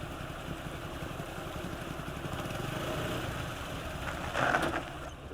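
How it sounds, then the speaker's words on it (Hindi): A motorcycle engine idles with a steady low rumble that holds evenly throughout, with a brief slight swell near the end and no voices. "बाइक क्यों रोक दी भैया?"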